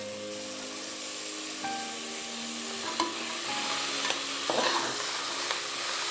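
Chickpeas tipped into a hot pan for chickpea biryani, with a steady frying sizzle and hiss throughout, a few short stirring clinks and scrapes, no talk.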